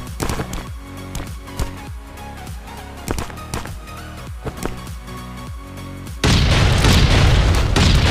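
A C4 charge detonates against a door in a survival video game, a loud sudden blast that swells into a sustained roaring wash of noise after a stretch of rhythmic game sounds.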